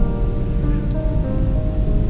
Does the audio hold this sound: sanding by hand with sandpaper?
no